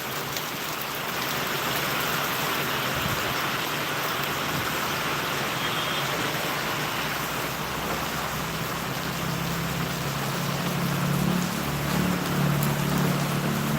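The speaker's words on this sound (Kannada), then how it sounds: "ನಾನ್ ಸ್ಟಾಪ್ ಮಳೆಯಿಂದ ಸುಮಾರು ಎಂಟು ಗಂಟೆಗೆ ಸ್ಟಾರ್ಟ್ ಆಗಿ ಸಿಕ್ಕಾಪಟ್ಟೆ ಮಳೆ" Heavy non-stop rain pours steadily in Shidlaghatta in a dense, continuous hiss, loud and unbroken from start to finish, with a faint low rumble late on.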